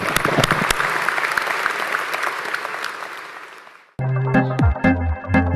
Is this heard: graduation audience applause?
yes